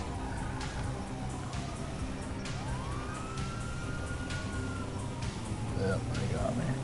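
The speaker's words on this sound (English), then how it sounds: "I can still hear the siren." Police car siren in the video game GTA 5 wails in long rising and falling sweeps, moderately distant and continuous under a busy game mix.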